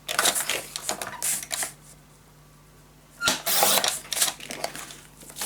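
Paper being cut for a scrapbook travel-suitcase mini album, heard as two bursts of dry, rasping slicing strokes separated by a quiet pause, close and fairly loud.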